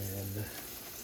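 Pieces of curry pork tenderloin sizzle in hot oil in a pan, a soft, steady frying hiss lasting about a second after a short low hum at the start.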